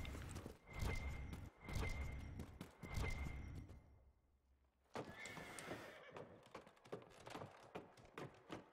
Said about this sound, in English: Let's go ahead and jump off the horse.